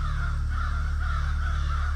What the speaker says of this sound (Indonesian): Lalu suara burung terdengar jelas.